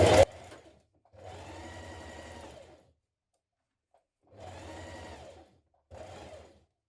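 A sewing machine stitches a coat seam in three short bursts of steady whirring with pauses between, close and clear, preceded by a brief click.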